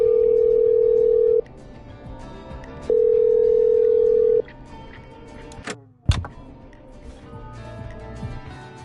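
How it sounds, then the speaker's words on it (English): Telephone in the game Killer Frequency: a steady ringing tone sounds twice with a pause between, then a clunk and a brief electronic sweep, loud and close with no speech. "I'm dialing. One moment."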